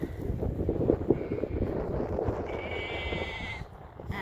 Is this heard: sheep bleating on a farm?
yes